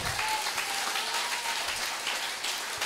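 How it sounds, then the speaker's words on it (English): A congregation claps hands together in worship at a church service, a steady dense patter of many hands at moderate distance with no talking over it. "Can we give a hand clap of worship?"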